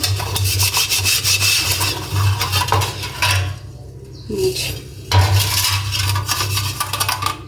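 Harsh rhythmic scrubbing of a rusty iron griddle, rough rasping strokes repeating steadily, with a brief pause midway before the scraping resumes.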